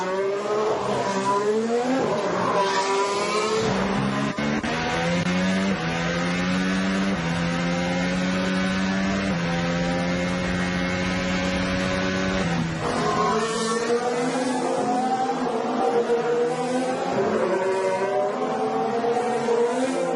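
Formula 1 cars race at the 2017 Azerbaijan Grand Prix, with loud, high-revving engine whines that rise and fall as cars pass and shift gears, heard continuously without commentary.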